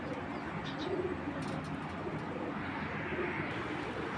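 Pigeons kept for racing coo softly in a loft, low repeated calls under a constant airy background hiss, faint and steady with no clear speech.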